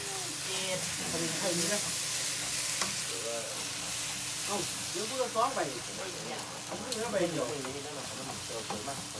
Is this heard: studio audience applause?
no